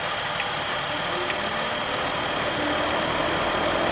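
A 2007 Jeep Wrangler Unlimited X, just after a radiator replacement, idling with a steady broadband engine rumble and a rough grinding, gurgling texture, constant and fairly loud throughout with no talking.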